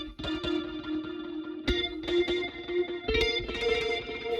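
An electric guitar runs through a Helix Native analog-style delay at its default headroom setting, playing plucked notes and chords whose repeats trail behind each attack, with no talking.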